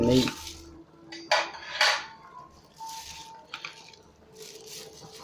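A pan is set down onto a kadai while cooking Arabian biryani (majboos), giving several close metallic clanks and scrapes separated by short quiet gaps.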